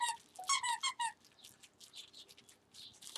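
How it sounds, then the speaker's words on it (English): A squeaky plush Scooby-Doo dog toy gives a quick run of sharp, high squeaks up close, followed by softer crinkling and rustling of the toy. "Has a crinkle And oh, a squeaky."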